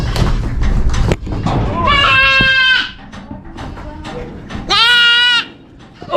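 Goats bleat loudly in two long, wavering calls, one after another with short pauses between, close by on a farm, with thuds and handling noises around them.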